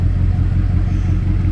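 A fully forged BMW X6M engine with modified exhaust idles and revs, giving a deep, throaty, low rumble that stays loud and steady through the short stretch, with no voices.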